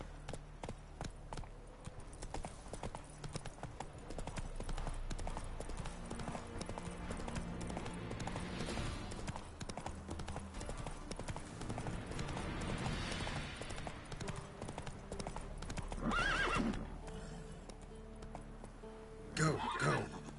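Horse hooves gallop in a steady, rapid clip-clop rhythm while riding in The Witcher 3, close and continuous under a bed of game music, with a brief whinny-like burst near the end and some speech in the background.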